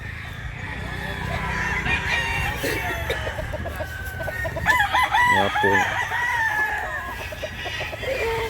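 Chickens and roosters at a gamefowl spot in Mantalungon, Barili, cluck steadily while a rooster crows loudly midway, with people talking faintly in the background.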